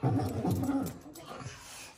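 A pet dog growls close by, a low rumbling growl over the first second that fades into quieter rumbles.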